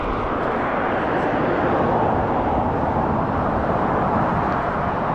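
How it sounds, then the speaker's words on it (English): An aeroplane taking off from Newcastle Airport, heard from nearby countryside as a steady broadband engine roar that stays loud and even, mixed with traffic noise from a busy road. "There's an aeroplane taking off from Newcastle Airport."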